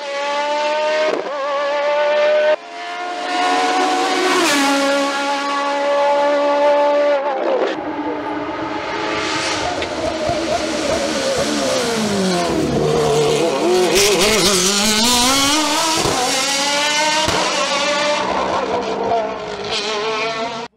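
A race car powers up a hill-climb course at the Vuillafans-Echevannes event, its engine screaming loudly through rising and falling gear changes, repeated shifts over about twenty seconds as it charges uphill close by.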